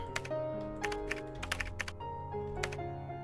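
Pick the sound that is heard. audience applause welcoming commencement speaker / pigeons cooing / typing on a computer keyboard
typing on a computer keyboard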